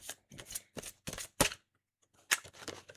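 A large deck of cards is shuffled by hand, giving a series of short, crisp riffling bursts separated by brief silences, close and fairly quiet.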